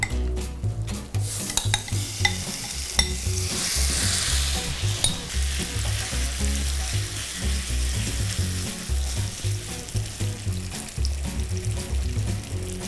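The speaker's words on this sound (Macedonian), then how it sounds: "Значи секогаш пржиме у многу загреана вок тава." Meat stir-fries in a very hot wok with vegetable oil, sizzling loudly and steadily while a utensil scrapes and clinks against the pan, with no talking.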